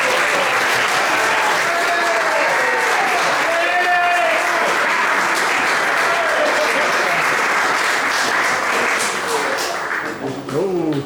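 Audience clapping at an awards night, a loud sustained roar of many hands with whoops and cheering voices rising above it, tapering slightly at the very end.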